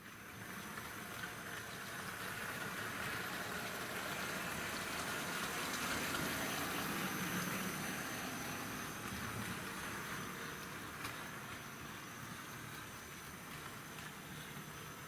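A Tri-ang Hornby model locomotive fitted with a Hornby X04 high-torque five-pole motor runs in reverse, pulling wagons that include a resisting rail cleaning wagon. It makes a steady, even whirring drone throughout with no talk.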